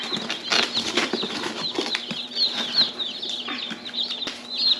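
Meat chicken chicks in a shipping box give a steady stream of high, close peeping, with soft rustling and shuffling underneath.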